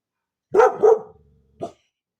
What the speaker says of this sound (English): Oh, you hear my dogs.